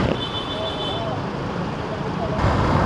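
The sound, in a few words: road traffic noise in the Philippines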